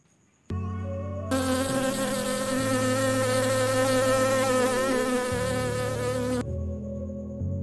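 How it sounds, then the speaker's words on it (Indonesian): A bee buzzes loudly and steadily at close range for about six seconds, its drone wavering slightly in pitch and then cutting off abruptly, with no voices. "Lebah."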